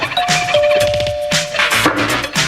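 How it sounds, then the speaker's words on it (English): A doorbell gives a short two-tone chime, sounding once amid other loud sounds in the scene. "And the doorbell."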